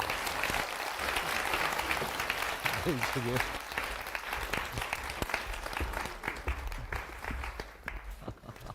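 Audience applause in a Korean lecture hall welcoming two university professors to the stage, a steady crowd of clapping hands with a brief voice cutting through midway, tapering off toward the end.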